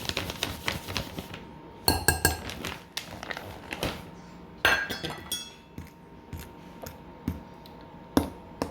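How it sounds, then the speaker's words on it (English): Fork clinking and scraping against a glass bowl while mixing cornbread batter for a low-carb BBQ pork pie, in irregular close taps and clinks with quiet gaps. "I don't need to use a fork for this, but I am. So I'm gonna mix this in."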